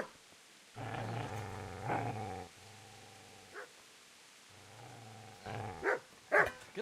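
A dog growls and snarls in several sustained bursts, close and fairly loud, with a few sharper barks or yelps near the end.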